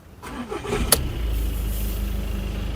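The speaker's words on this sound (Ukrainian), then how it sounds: "Давайте запустимо двигун." A 2017 Skoda Octavia Scout 2.0 diesel engine cranks briefly, catches, and settles into a steady low idle, close by and fairly loud.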